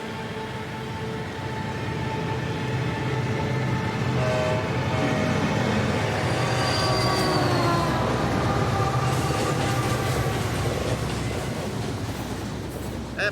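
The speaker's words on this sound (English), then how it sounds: "I think there might be a train coming" A train rolls past on a railway line next to a muddy road, loud and sustained, with wheels squealing and ringing metallic tones rising and falling, and no voices.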